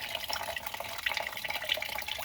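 Coolant drains from the opened drain cock of a BMW E39 radiator, a continuous splashing, trickling stream that stays close and even throughout, with no one speaking.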